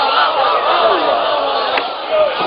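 A large crowd at a Shia majlis shouts religious slogans in unison, a loud, sustained roar of many voices close by that swells and dips briefly near the end.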